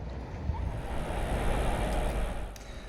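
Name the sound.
waves and wind aboard the Cross River ferry, Cobh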